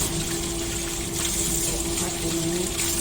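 Tap water runs steadily into a kitchen sink as it is rinsed and washed, a constant close rushing flow with a faint underlying pump-like hum and no pause.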